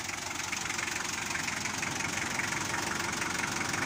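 Hyundai Starex with a D4BH diesel engine idling, a steady, loud, even clatter with a rough low throb that holds unchanged from start to finish, heard up close with no voices.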